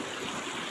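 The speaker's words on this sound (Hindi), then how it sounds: "तो ये देख सकते हैं पानी आ रहा है" Water flows steadily out of a tubewell in a brief, continuous rushing wash of sound, with no voices.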